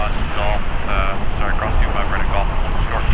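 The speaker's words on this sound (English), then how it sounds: "Landing here at Spirit Airlines, Flight 1072, coming in from Nashville" Spirit Airlines Airbus A320, eight years old, landing at Los Angeles International Airport after a flight from Nashville; a steady, loud jet engine roar fills the whole stretch, with a voice talking over it.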